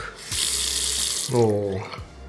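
Water rushes from a handheld shower in a hotel shower room in Tbilisi, Georgia, a loud steady spray that briefly shifts in tone as the flow changes, with no talking.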